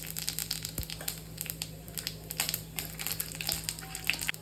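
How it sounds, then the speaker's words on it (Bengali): Bay leaves and dried chillies fry in hot oil with a continuous close crackle and scattered sharp pops. "এবারে একই তেলের মধ্যে তেজপাতা আর শুকনো লঙ্কা দিয়ে দেব।"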